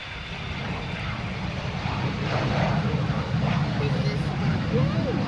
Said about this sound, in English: Cessna citation.